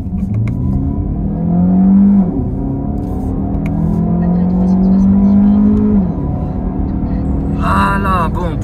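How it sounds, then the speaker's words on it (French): A Peugeot 408 GT with a 225-horsepower engine accelerates hard uphill in sport mode, its engine note climbing in pitch through gear changes from inside the cabin, loud and continuous, with a brief voice near the end. "on va faire une accélération, accrochez-vous."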